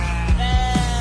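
Sheep bleats used as a sound effect on a sports talk radio broadcast, three short wavering calls sounding over a steady musical bed, fairly loud and close.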